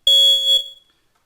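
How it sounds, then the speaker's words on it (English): A ceiling-mounted smoke alarm gives one loud, piercing electronic shriek as its test button is pushed, then cuts off and rings away into silence. "you can do this when they're still on the ceiling by pushing that button"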